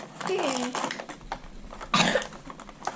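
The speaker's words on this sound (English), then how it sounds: "I have a cough" A voice is heard briefly, followed by a single harsh cough close to the microphone.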